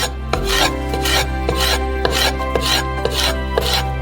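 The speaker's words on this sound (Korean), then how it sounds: "피망에서 펄프를 발라내고 작은 조각으로 썰어주세요." A knife chops bell pepper into small pieces on a board, a loud, close series of regular strikes and scraping cuts over a constant low hum, with no talking.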